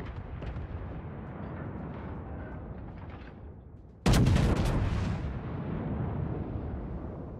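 Main guns of the battleship Scharnhorst in World of Warships fire a single loud, heavy blast midway through, cutting across a steady low rumble and trailing off in a long, booming decay.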